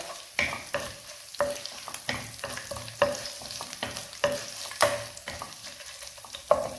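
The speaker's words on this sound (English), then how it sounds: "And give it a quick stir." Cloves and cinnamon sticks sizzle in hot coconut oil while a spoon stirs and taps the pan in repeated scrapes, a close, continuous frying crackle under the clinks.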